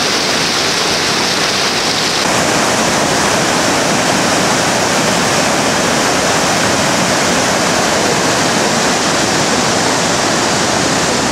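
Rushing river water at Piracicaba, pouring over itself to form a fluid wall, produces a loud, continuous broadband roar that stays steady and close throughout with no voices.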